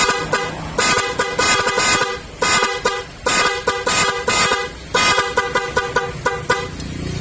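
A Honda Click 125 v3 scooter fitted with a popop horn and stock horn honks loudly and close, in repeated short toots and longer blasts forming a rhythmic tune-like pattern, with no talk.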